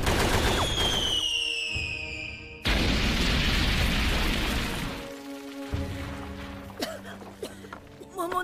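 Anime gunfire from One Piece arrives in rapid bursts with sharp booms and explosions, loud and close, with a descending whistling tone at the start and a brief shout near the end.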